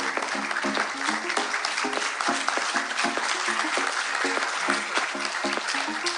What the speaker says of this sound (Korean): 힘찬 박수로 맞아주십시오